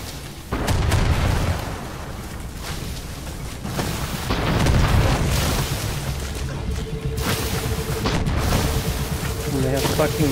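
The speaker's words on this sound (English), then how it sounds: "Do they have fucking mortars?" Mortar fire in the video game Far Cry 6 booms heavily in repeated low blasts and rumbling impacts, loud and close amid continuous combat noise, with players talking over it.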